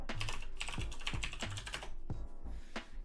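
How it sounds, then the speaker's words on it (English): A password is typed on a computer keyboard as a quick run of close, crisp key taps with a few heavier strokes mixed in, heard alone with no speech. "then type in your password"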